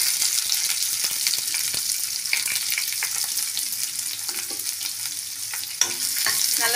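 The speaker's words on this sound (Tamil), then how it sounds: "நல்லா வதக்கி விட்டுக்கலாங்க." Chopped onion sizzles in hot oil with mustard seeds and curry leaves as it is stirred in a pan for a broad beans poriyal. The frying hiss is loud and steady, broken by scraping stirs and a sharp clack near the end, with no talk.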